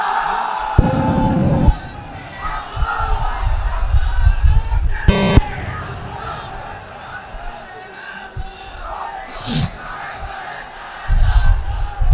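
Large crowd at an outdoor Islamic religious gathering roars a takbir chant in unison, loud bursts of massed shouting rising at the start and again at the end, with a brief buzzing tone in the middle.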